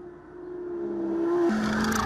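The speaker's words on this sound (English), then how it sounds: "The engine responds immediately, Klaus says." Audi R8 sports car with a seven-speed dual-clutch transmission on a racetrack, its engine note rising steadily as it accelerates, with a sharp shift in pitch partway through; close, continuous and moderately loud.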